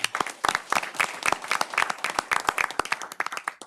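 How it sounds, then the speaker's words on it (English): A small group at a city council meeting claps for staff, sparse distinct handclaps in an uneven patter, fairly close and moderate in level. "we can just give everybody involved a round of applause"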